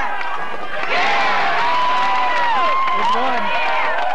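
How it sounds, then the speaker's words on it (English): Crowd at a professional bowling tournament erupts in loud cheering, shouting and applause, a dense roar of voices and clapping that swells and sustains throughout. "This crowd is just going crazy."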